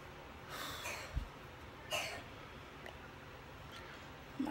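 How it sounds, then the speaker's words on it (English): A few faint, breathy coughs spaced apart against steady background hiss, quiet and somewhat distant. "My poor baby is just coughing up a storm."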